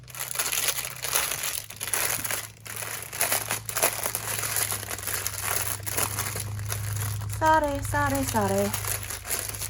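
Crinkly plastic packets of diamond painting drills are unwrapped up close, with repeated sharp rustling and crumpling. A brief spoken word is heard near the end.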